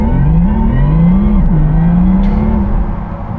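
A Porsche Taycan Turbo S electric car, facelifted second generation, accelerates hard on push to pass, its motor whine sweeping up and dipping between surges, loud and close from inside the cabin with no talking.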